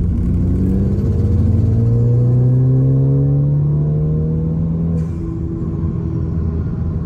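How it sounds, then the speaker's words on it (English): A turbocharged car on a stock tune accelerates at wide open throttle, its engine droning loud and steady with a rising tone that climbs through the revs, drops briefly at a gear change, then pulls again. "I could hear the turbo flutter when I first hit wide open throttle"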